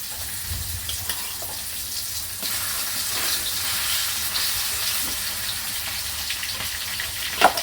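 A chicken egg frying in a pan, a steady soft sizzle running the whole time with a few faint clinks near the end, no one speaking.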